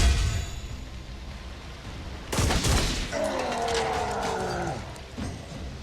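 Video game gunfire: a single loud blast with a sharp crack around the middle, followed by a ringing, echoing tail and some rattling as the sound settles.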